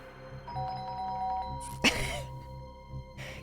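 Doorbell chime in the video game The Hardy Boys: The Hidden Theft, a two-tone electronic ding-dong with sustained ringing tones, heard under light talk and a brief cough or throat noise midway.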